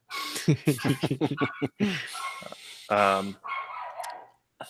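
A dog barks in a rapid run of sharp, close barks, followed by a person talking briefly.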